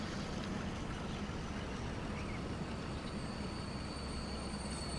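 A train runs on the freight track inside a tunnel, making a steady, loud rolling rumble with a faint high wheel squeal throughout.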